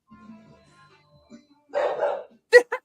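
A dog barks a few times: a muffled burst of barking followed by two sharp, close yips, with quiet background sounds before.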